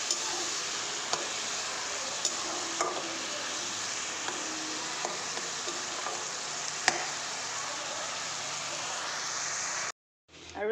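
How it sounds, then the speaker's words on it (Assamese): Onion, ginger, garlic, tomato, chili, sugar, salt and turmeric frying in hot oil give a steady, close crackling sizzle with scattered sharper pops, running continuously before cutting off near the end. "তেলতে পিঁয়াজ আদা নহৰু সকলোবোৰ দি দিছোঁ, জলকীয়া চেনি বিলাহী নিমখ হালধি চব দি এতিয়া ভাজিবলৈ লৈছোঁ"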